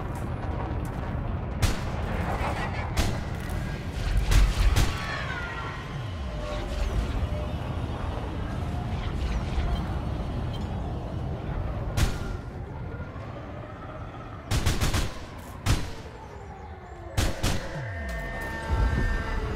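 Shock cannons, a new tech broker weapon, firing in a space battle in Elite: Dangerous, irregular heavy energy blasts and bursts over ship engine hum and cockpit ambience.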